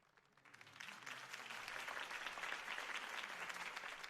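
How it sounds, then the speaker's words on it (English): Crowd applause in a video game following a campaign speech by Harvey Dent, fading in and swelling into steady, dense clapping that holds loud throughout. "If only Mr. Wayne, my campaign's largest backer, could have heard that applause"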